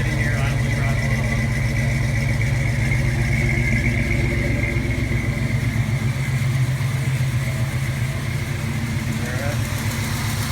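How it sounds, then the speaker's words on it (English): A 1978 Dodge Ramcharger engine idles close by with a steady, even rumble that holds unchanged from start to finish. "Just sitting here idling right along."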